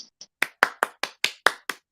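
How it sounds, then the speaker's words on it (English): Handclaps for a podcast guest host, roughly nine sharp, evenly spaced claps in a steady rhythm, close and dry, with no voices over them. "I hear y'all clapping."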